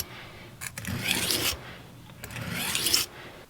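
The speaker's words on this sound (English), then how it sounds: "as we're nearing to the end of our sharpening on the fine grit" A kitchen knife is drawn across a fine grit whetstone in two long, even rasping strokes, each building to a bright scrape before stopping, close and clear with no talking.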